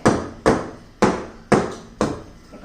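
A mango semolina cake tin is tapped on the counter to settle the batter, making five sharp knocks at an even rhythm, each ringing briefly before fading, close and clear with no talk.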